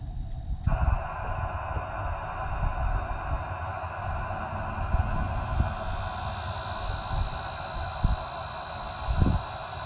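A dense, high-pitched cicada drone hums steadily in the background at Cedar Hill State Park, Texas, in September, growing louder and more constant toward the end, over faint low rumbling.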